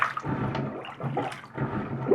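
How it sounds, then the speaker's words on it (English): A plunger works a blocked sink drain in a series of wet, gurgling surges and sloshes, each push sending the trapped water glugging and splashing up from the drain, close and fairly quiet. "I'm going to keep plunging until I don't have any water left"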